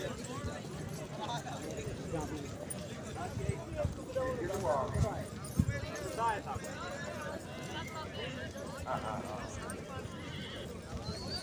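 Horses gallop in a nezabazi race at Haripur, hoofbeats running steadily beneath a continuous announcer's voice and crowd babble, with a few sharper thuds standing out.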